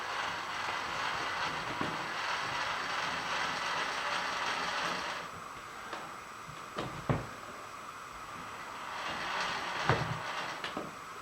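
A milling machine table is cranked by hand to bring the vise back to center, with soft ratcheting and gear-like mechanical clicks, a steady faint whir, and a few sharper knocks near the end.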